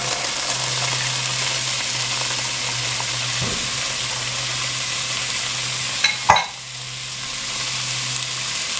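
Onions frying in a pot over low heat for a sweet potato beef stew, a steady close sizzle with a brief stir or clatter midway and a louder knock near the end.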